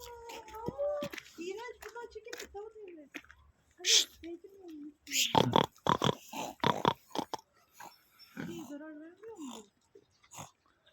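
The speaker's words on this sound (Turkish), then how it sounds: "Domuz." A pig grunts and snorts close by in short bursts at a zoo, while children and adults talk over and between the sounds.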